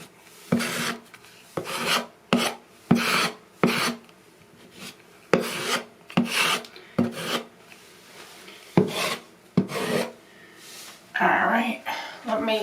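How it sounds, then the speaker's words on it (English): A putty knife pushes and scrapes putty into a hole in a wall during a pantry remodel, making a series of short, close rasping strokes in an uneven rhythm, with brief pauses and soft speech between them. "I'm gonna push as much of the putty in the hole as I can"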